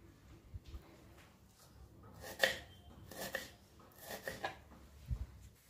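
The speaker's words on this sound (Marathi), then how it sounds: "असंच आता मी हा सर्व कांदा कट करून घेणार आहे" Onions chopped with a knife on a board for veg biryani, a few quiet, scattered knife taps and thuds at close range in an otherwise hushed kitchen.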